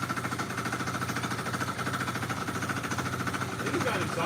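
A CVT vehicle's engine idles noisily with a clacky, rhythmic knocking rattle, close and steady, with a voice faintly present over it.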